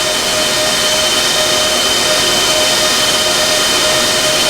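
Iceriver KS5L Kaspa ASIC miner running at full load, a steady, loud broadband fan roar heard up close, with faint constant whining tones riding on top and no pauses.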